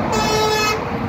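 A single loud, sustained truck air horn blares up close on the A5 motorway near Frankfurt am Main, a bright tonal blast lasting most of a second over the steady rumble of traffic.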